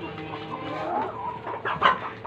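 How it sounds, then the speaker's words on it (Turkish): Lohmann hens cluck in a steady, close series of soft, throaty calls, with one sharper squawk near the end. "Lokman tavukları böyledir."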